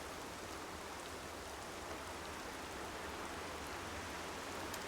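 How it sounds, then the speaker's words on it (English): Video game rain in Horizon Zero Dawn: steady, soft, broadband hiss of falling rain, continuous and even, faint and without voices. "Alright, and now it's raining."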